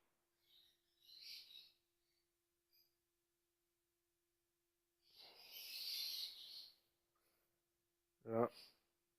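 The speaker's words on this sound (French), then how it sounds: "vous entendez aussi mes oiseaux?" Pet birds calling indoors: a few short, faint chirping bursts separated by silence, with one brief, louder, lower-pitched call near the end.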